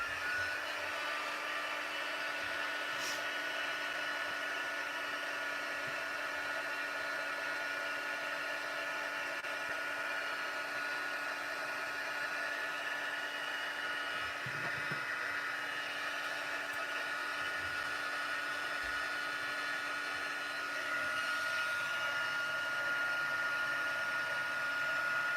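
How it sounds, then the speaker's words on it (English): A heat gun blows continuously in a crafting space, a steady airy whine and hum held at an even, moderate level for the whole stretch with only slight shifts near the end. "Heat gun going on now."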